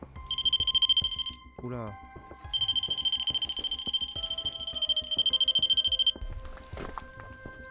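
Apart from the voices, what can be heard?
small black detector box beeping alarm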